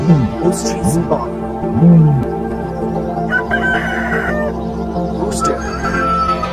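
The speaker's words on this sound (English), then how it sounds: "Rooster." A rooster crows among a montage of farm and wild animal sounds, its call rising and falling over a busy background of other calls, with speech-like sounds mixed in.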